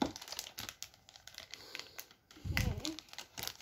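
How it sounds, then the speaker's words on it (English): A voice runs over the crinkling and tearing of plastic packaging as it is cut open with scissors. There is a burst of louder rustling partway through. "Oh, okay, you're gonna use scissors. Let's cut these open."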